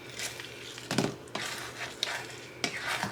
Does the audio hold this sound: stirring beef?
yes